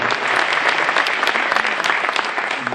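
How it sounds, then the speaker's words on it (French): Sustained applause from a gala crowd, steady clapping throughout with a dense, even texture and no voices standing out. "On peut l'applaudir."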